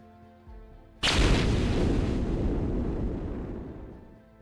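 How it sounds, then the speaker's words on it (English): A building explodes in one sudden, massive boom that rolls into a long, dense roar of rumbling debris, slowly fading over several seconds, with no voices. "As the building explodes, you are both thrown from the building"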